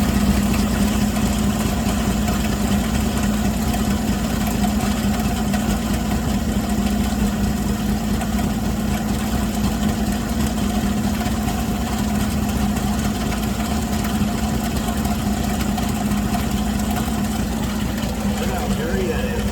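A 1960 Chevrolet Bel Air's engine idles steadily and loudly close by for the whole stretch, a constant rumbling hum with a faint hiss on top.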